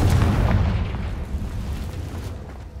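A Confringo spell explosion in the Hogwarts Legacy video game, a loud booming blast that hits at once and then fades into a long rumbling decay, with no voices over it.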